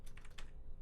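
Brief, close run of typing on a computer keyboard, a quick cluster of light plastic key clicks with no voices.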